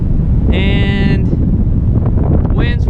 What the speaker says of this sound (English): winds were forecast to be like 12 miles an hour. That's probably what it feels like, maybe stronger in the gust.